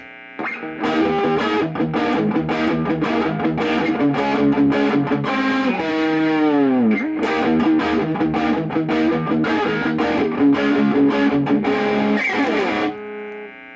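Steve Brown Sound SBS VS300 neon green HSS electric guitar on its bridge humbucker, overdriven through a Tube Screamer clone, plays loud, continuous hair-metal riffs with sustained chords and a bending note, alone with no talking.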